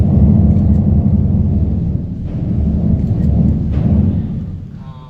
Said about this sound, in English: We have the storm.